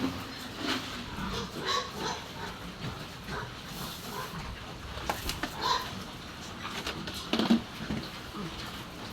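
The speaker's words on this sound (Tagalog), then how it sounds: "Bayan po yung aming baboy ah." Pigs in a pen give scattered low grunts and snorts over a constant hissy background, with a louder cluster of grunts near the end.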